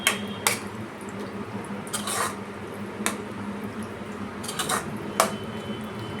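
A spoon stirs pav bhaji with Kashmiri chilli powder and spices in a pan, giving sparse metallic clinks and scrapes against the pan amid soft kitchen background hiss, with a few sharper taps spaced a second or two apart.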